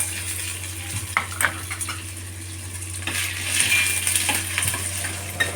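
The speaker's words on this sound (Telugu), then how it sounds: "ఇది మగ్గే లోపల ఇది కొంచెం ఆయిల్లో పన్నీర్ని అంతా ఫ్రై చేసుకోవాలి" Paneer frying in oil, restaurant-style: a continuous close sizzle punctuated by several sharp metallic clinks and scrapes of a utensil against the pan.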